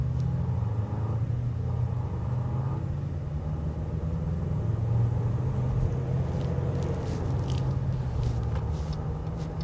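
Turbocharged 4-cylinder engine of a 2026 Jeep Grand Cherokee Summit while driving, a steady low cabin rumble and road drone at moderate level, with no speech.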